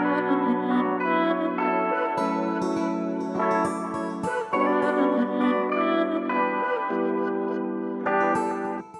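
Emotional modern afrobeats track with vocals sitting in the full mix over guitar, e-piano and drums, steady and fairly loud throughout with effected, echoing textures.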